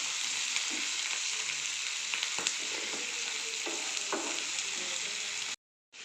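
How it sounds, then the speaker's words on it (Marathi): Eggplant bharit mixture with peas sautéing in a pan on medium flame, a steady close sizzle broken by scraping stirs, cut off abruptly before the end. "त्याला आपण चांगलं आता परतून घेऊया गॅसची फ्लेम मिडियमच ठेवायची आहे"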